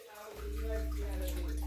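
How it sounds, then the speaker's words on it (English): Tap water runs steadily while plates are washed by hand in a rural Canadian home, a continuous rushing flow that starts after a brief quiet moment and stays loud and close. "When we use dishwashers or we wash plates like this,"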